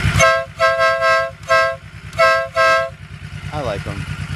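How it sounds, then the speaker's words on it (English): Loud air horns on a Honda Shadow 1100 motorcycle blast five times in quick bursts over the idling engine, followed by a man's brief remark. "And the horns, air horns."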